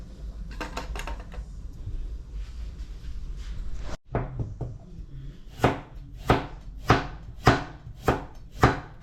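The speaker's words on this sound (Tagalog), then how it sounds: "magtatat lang ako ng onion, bawang tsaka carrots" Onion, garlic and carrots chopped on a cutting board with a knife, a quick flurry of cuts followed by a pause and then about seven loud, evenly spaced chops, close and clear.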